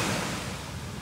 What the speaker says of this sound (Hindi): ये पानी की आवाज़ ही बहुत